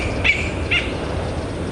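A female koel, an Australian cuckoo, gives two short, clear calls about half a second apart, heard outdoors over a steady background hiss.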